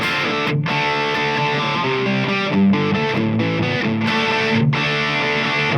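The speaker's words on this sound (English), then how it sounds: "We got our distortion rhythm channel on our amp." A distorted electric guitar on a Kiesel bridge pickup runs through an amp's distortion rhythm channel, playing a loud, sustained, chugging rhythm part with a few brief chord breaks.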